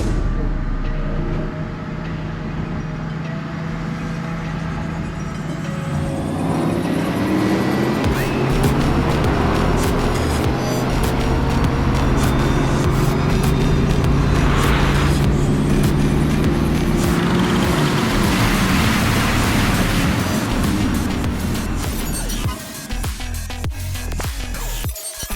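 Mercedes-AMG roadsters drive past, a naturally aspirated AMG GTC Roadster among them. A loud, sustained engine drone rises and shifts in pitch as the cars accelerate, ending with crackling bursts near the close.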